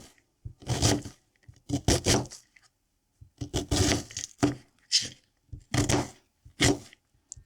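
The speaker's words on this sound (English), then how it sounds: "You can cut the onion the way you like it." A knife cuts an onion into big pieces on a board, giving short, separate scraping chops in small clusters with silent gaps between them, close and moderately loud with no talking.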